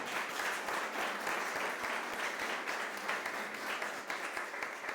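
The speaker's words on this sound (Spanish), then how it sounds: "Dele ese aplauso al Rey" Church congregation applauding, a loud, dense and continuous wash of clapping from many hands lasting throughout, with no clear talk on top.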